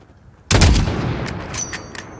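A single sharp sniper rifle shot in Call of Duty: Modern Warfare (2019), fired at a target 600 meters away, loud and sudden, followed by a ringing decay with faint clicks and echoes.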